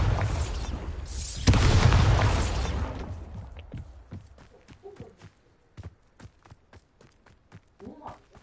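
A Bombarda spell explosion in Hogwarts Legacy, a loud booming blast that rumbles and slowly fades, followed by light footsteps and scattered small impacts.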